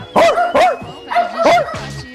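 A dog in Greece barks loudly and close, several sharp aggressive barks in quick bursts with a whining, yelping quality between them.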